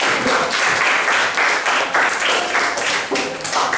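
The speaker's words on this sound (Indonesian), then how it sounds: "Tepuk tangan dulu buat kelompok" Applause from an audience for a presenting group at the close of a school presentation, a dense steady patter of many hands clapping, loud and continuous throughout.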